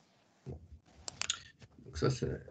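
Irregular computer keyboard clicks tapping out in a few quick bursts, close but fairly quiet, with faint voices in the background.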